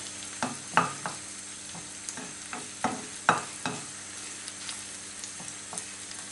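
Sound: garlic frying in a pan

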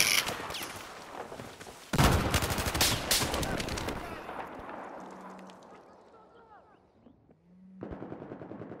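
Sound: gunfire in a video game

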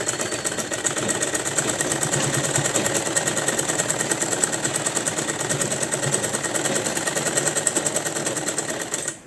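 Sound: sewing machine top-stitching a Patiala salwar

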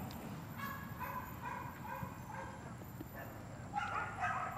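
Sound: American Pit Bull Terrier dog barking

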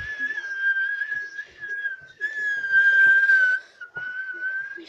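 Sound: human whistling

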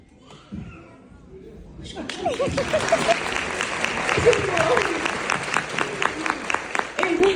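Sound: applause for children at preschool show

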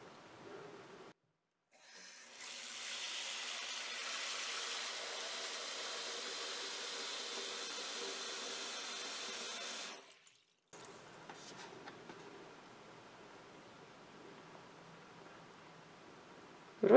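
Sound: water running from sink tap

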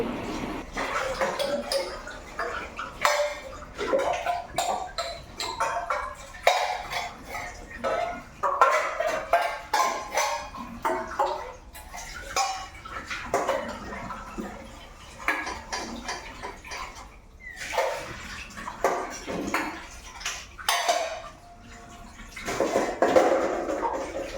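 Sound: washing dishes

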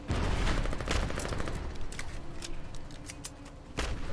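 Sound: gunfire shooting at a tank in video game Foxhole

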